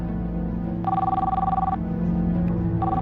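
A telephone rings late at night indoors, one clear electronic bell burst of about a second, then a pause before the next ring begins, with a low hum underneath.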